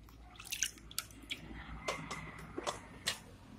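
Rinsed potato pieces sit draining in a strainer in a home kitchen, giving faint, scattered drips and small splashes over a quiet, soft background.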